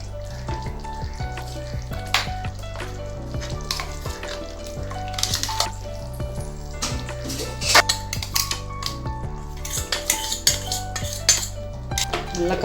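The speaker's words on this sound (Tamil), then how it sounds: "நல்லா கலந்து விடுங்க." A spoon scrapes and clinks against a pot as ground masala is stirred into a frying Andhra-style chicken curry, repeated metallic taps and scrapes over a steady sizzle, close by, with no voices.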